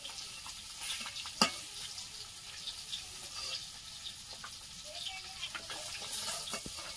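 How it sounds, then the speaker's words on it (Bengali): Pieces of catla fish frying in a pan, giving a faint, continuous crackling sizzle with scattered sharp pops and clicks throughout. "মাছগুলো খুব কড়া করে ভাজবো না"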